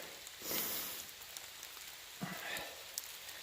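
Rain patters steadily on a hiking route along the Appalachian Trail, a soft, even hiss with a couple of louder gusts of drops and scattered close taps, no voices.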